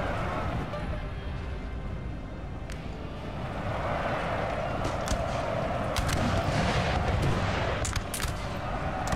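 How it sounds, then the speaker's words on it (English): Napoleonic battle in Napoleon: Total War, distant artillery thumps and scattered musket fire under a continuous roar of fighting, with talk over the din. "Good artillery hit, this unit is being slain."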